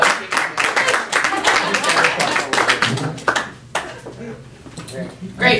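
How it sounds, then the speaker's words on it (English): Applause from a seminar audience for a volunteer, dense clapping bursts with a voice talking over and between them, close and fairly loud. "There you go, big round of applause."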